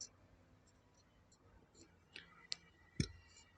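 A few faint, sharp clicks of a computer mouse in a quiet room, spaced irregularly near the end, with a soft low hiss underneath.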